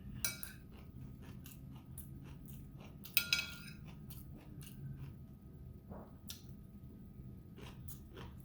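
Rice and kimchi are chewed close to the microphone, with soft wet bites and crunchy crackles in an irregular rhythm over a quiet background.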